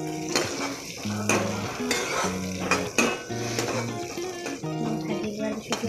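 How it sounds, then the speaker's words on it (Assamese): Peanuts frying and being stirred in a pan for an Assamese home-cooked dish, with steady sizzling under repeated scraping and clinking of a utensil against the pan, close and fairly loud. "ভাজি দিয়াৰ পিছত ইয়াত মই কেইটামান বাদামো দিলোঁ। এনেকৈ এইখিনি ভাজি ল'লোঁ।"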